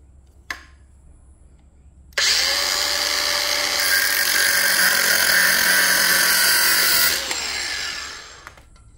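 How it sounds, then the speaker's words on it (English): An angle grinder cuts off a spot-welded tab on a Yoshimura R11 exhaust for a Suzuki GSX-S750, a loud continuous high whine for about five seconds that starts abruptly and winds down at the end, after a single brief knock. "I've managed to grind that little tab off"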